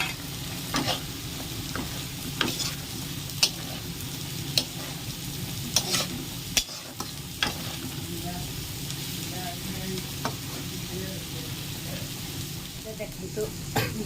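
Small fish frying in a pan in a village kitchen give a steady, moderate sizzle with occasional sharp pops and crackles, under a voice speaking intermittently.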